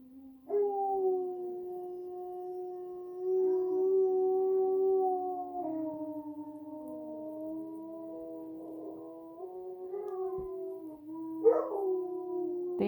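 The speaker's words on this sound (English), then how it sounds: "they always feel the need to howl whenever they hear sirens" Two German Shepherd dogs howl at sirens in long, sustained, wavering tones that overlap and shift in pitch for over ten seconds, fairly faint and with no talking.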